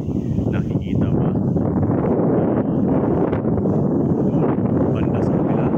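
Constant wind rushing and buffeting on Mt. Manunggal in Cebu, loud and close, with light rustling mixed in.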